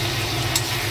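Potatoes and chopped tomatoes stirred in a frying pan on a gas stove, a steady sizzle with a brief scraping stir near the middle, close and alone with no talk.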